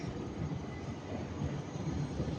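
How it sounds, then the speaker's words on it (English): A Northern Class 150 diesel train arriving at Stockport station, heard as a steady, broad rumble and wheel roar that holds a constant loudness the whole time, with no voices over it. "We've got Northern Class 150 coming"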